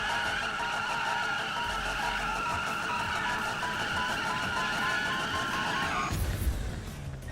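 Car skidding in Need for Speed (2015), a continuous loud tire squeal with engine roar for several seconds, ending abruptly into quieter engine noise.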